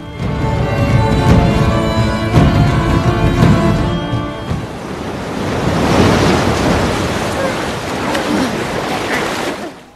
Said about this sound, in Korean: 그날 저녁 강한 폭풍과 파도가 휘몰아치고 그들이 탄 배는 산산조각이 나는데